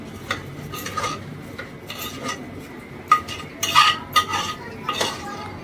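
Egg khichdi being stirred in a pan, a metal spoon scraping and clinking against the cookware in a series of irregular strokes that grow busier toward the end, close and fairly loud with no voices.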